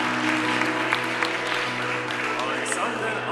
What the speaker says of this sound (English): give a big round of applause to the doctorants who were not able to take part in today's ceremony